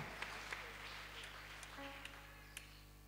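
A church congregation applauding at a women's convention, with faint, scattered clapping over a steady low hum, a few individual claps standing out.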